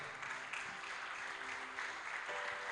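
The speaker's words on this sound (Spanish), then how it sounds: "Póngase de pie y dele un fuerte aplauso al Señor." A church congregation standing and clapping loudly during a Spanish-language sermon, a dense, sustained wash of applause filling the room for its whole length, with no talk heard over it.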